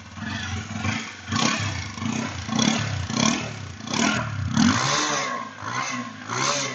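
A 2020 TVS Apache RTR 160 2V BS6 fuel-injected motorcycle exhaust revving up close, with repeated throttle blips that swell and drop in a steady rhythm, rough and loud with no talking.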